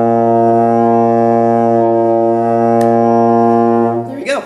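A single long, steady low brass note from a euphonium sustains loudly for about four seconds, then fades as a voice begins speaking.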